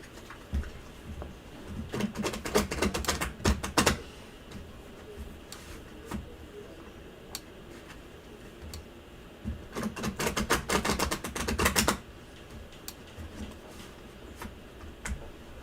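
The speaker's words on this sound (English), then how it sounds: "There goes my shuffling again." Playing cards are shuffled in two brisk bursts of rapid riffling clicks, separated by a quiet stretch with a few isolated taps.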